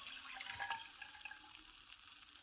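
Thick starchy pasta water pours back into a cooking pot, a steady, fairly quiet liquid splash lasting the whole stretch with no talking.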